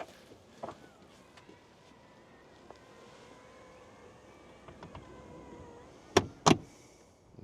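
Electric seats in a 2025 Mercedes GLS fold up and down, heard as a faint steady motor whine with a few soft clicks and two sharp thuds near the end.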